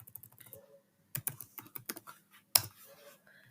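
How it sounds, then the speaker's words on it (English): Rapid keystrokes on a computer keyboard as a command is entered in a terminal-style tool demonstration, coming in close, uneven bursts with short pauses and one sharper key strike near the end. "So to display the description of the tool, just type Dmitry"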